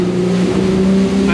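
A 2022 Invictus GT320 motorboat runs through waves at about 23 knots, a loud steady engine drone with strong low hum and a constant wash of water noise, close and continuous.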